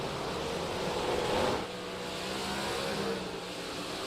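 Race cars in a 358 Modified Series race, two cars battling for first, roar steadily through the stretch, a sustained engine wash that swells slightly near the middle and then settles into a continuous drone.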